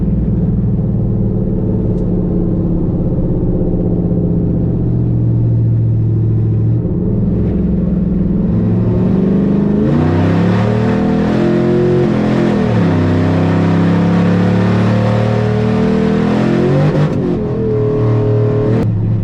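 A heavy burnout truck engine rumbles loudly and steadily, then revs up and down through several manual shifts with a faulty transmission, the pitch rising and dropping, close and continuous with no talking.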